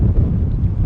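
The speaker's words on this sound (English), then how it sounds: "it's pretty wild and windy" Strong, gusty wind roars outdoors near a lake or bay, buffeting the microphone with a constant low rumble throughout, no voices heard.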